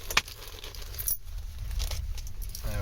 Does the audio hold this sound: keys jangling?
yes